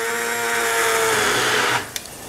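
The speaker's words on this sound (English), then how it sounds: "with just a hand immersion blender, I like to just blend that up and grind up all those tomatoes" A hand immersion blender whirs loudly through whole San Marzano tomatoes for a passata, a continuous high motor whine that cuts off abruptly near the end, followed by a small clunk.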